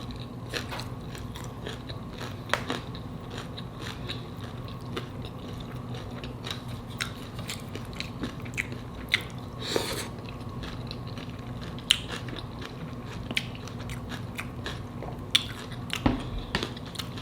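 Crisp crunches and bites into homemade crunchy salmon tacos come in irregular sharp clicks over a low steady hum, close and fairly quiet, with no talking.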